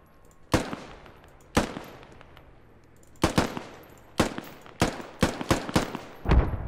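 Single M4 rifle shots in the military shooter Squad, crisp cracks spaced irregularly at first, then quicker pairs and bursts of close gunfire toward the end, with no talk over them.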